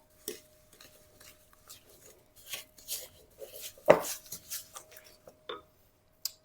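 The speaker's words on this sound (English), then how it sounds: "I'm going to give this a nice stir up" A spoon works soft brown and white sugar around a bowl, producing scattered scraping and gritty rubbing strokes, close and moderately loud, with one sharper clack of utensil against the bowl.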